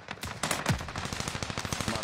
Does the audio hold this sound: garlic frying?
no